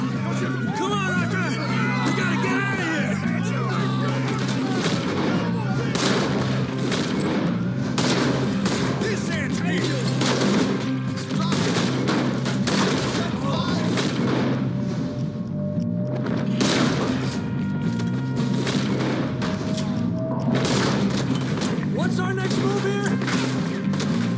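Repeated gunshots in a Red Dead Redemption 2 shootout during a floating casino robbery, sharp cracks scattered through loud music and game sound, with voices speaking between the shots.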